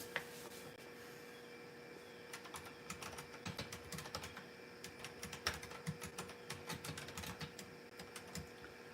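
Commands typed on a retro computer keyboard, a quiet, irregular patter of clicky keystrokes in short bursts, close and soft, with no talking.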